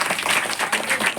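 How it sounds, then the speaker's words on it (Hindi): Audience applause at a gathering, a dense, steady wash of many hands clapping for the full moment, fairly loud and close with no voices on top. "एक बार जोरदार ताली बजा"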